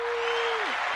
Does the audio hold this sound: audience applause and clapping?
yes